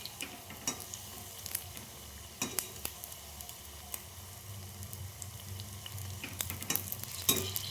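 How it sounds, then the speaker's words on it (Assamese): Agathi flowers coated in gram flour batter fry in hot oil, a steady soft sizzle with occasional crackles and brief stirring clicks, close and moderately quiet, growing a little busier toward the end. "এনেকৈ এটা এটাকৈ মই ভাজি গৈ থাকিম"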